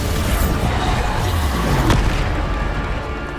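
A Bombarda spell in Hogwarts Legacy bursts in a deep, booming explosion that rolls on as continuous rumble with game effects and no pause.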